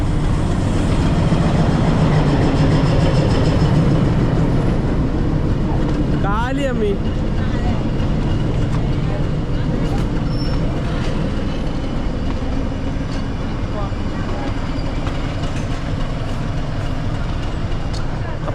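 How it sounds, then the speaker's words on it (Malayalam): A train pulling into Ketti railway station near Ooty, a loud continuous rumble and rattle of wheels close by that drowns everything, with a brief voice speaking over it. "നമ്മുടെ കേത്തി റെയിൽവേ സ്റ്റേഷനിലേക്ക് ട്രെയിൻ വരുന്നത്."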